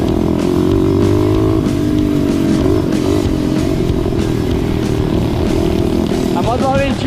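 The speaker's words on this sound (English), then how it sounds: "A moto do Valentino tá com o motor estourado." A motorcycle with a blown engine runs loud and rough, a steady ragged drone filling the scene with clattering texture, while people talk over it.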